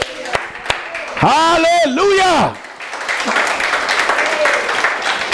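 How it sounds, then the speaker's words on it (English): A church congregation gives a sustained hand clap of praise, loud applause filling the room for several seconds after voices ring out in worship. "Let's give them a hand clap of praise."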